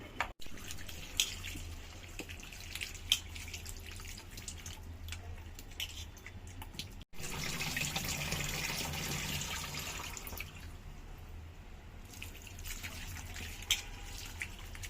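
Salted taro stolons are washed under a running kitchen tap, water splashing and dripping steadily into a sink, with a short break midway before the flow resumes louder.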